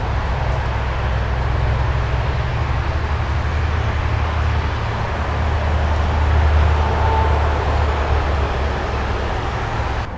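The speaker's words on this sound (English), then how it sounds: "Hopefully the traffic noise won't be too bad." Steady highway traffic along Highway 18, heard from a trail beside the road as a continuous low roar of passing trucks and cars, fairly loud and unbroken throughout.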